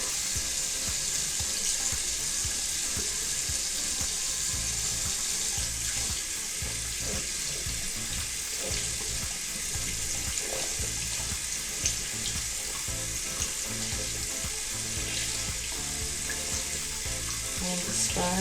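Steady running water pours from a tap while a makeup brush is rinsed, a loud continuous splashing hiss with small bursts of movement and no break throughout.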